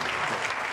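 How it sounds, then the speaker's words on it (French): A studio audience breaks into a brief burst of applause for guests on a live entertainment show, dense steady clapping that fills the room without pause. "Allez, on va applaudir très fort Didier Drogba et puis."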